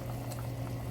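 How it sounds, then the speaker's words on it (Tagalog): Filipino corn chowder (suam na mais) simmering in a pot gives off a soft, steady bubbling and gentle liquid burble, faint and continuous over a low hum. "medyo kumukulo-kulo na siya"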